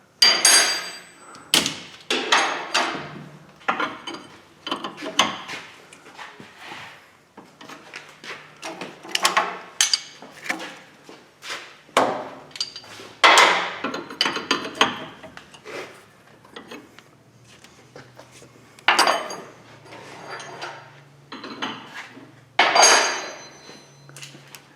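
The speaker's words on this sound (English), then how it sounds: "Got the vice grips going on." Vice grips clamped onto the suspension of a GMC/Chevy 1500 pickup during control arm and tie rod end work: irregular, close metallic clanks, clicks and scrapes in quick bursts with short pauses between them.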